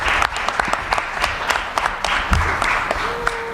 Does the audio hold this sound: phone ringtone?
no